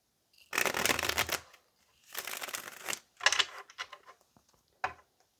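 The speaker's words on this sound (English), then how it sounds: "let's go ahead and get one more shuffle" Tarot cards are shuffled in a few quick riffling bursts, close and crisp, separated by short pauses and ending with a light tap.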